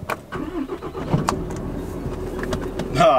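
A Cummins-powered pickup truck with a 6-speed gearbox drives along, its engine a steady mid-pitched rumble under road and cabin noise, with scattered clicks and knocks and a rising whine near the end.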